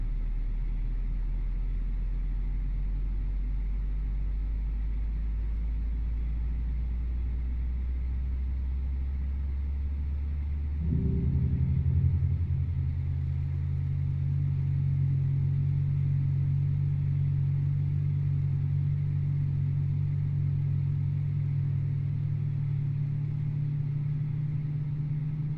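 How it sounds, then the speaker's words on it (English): Airbus A320 jet engine spooling up during start in Microsoft Flight Simulator 2020, a steady low rumble that builds partway through into a louder, sustained whine-backed drone, with no talk. "I'm going to go ahead and flip the engine master switch to the start position"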